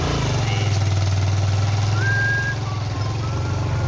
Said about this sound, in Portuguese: nós estamos indo de moto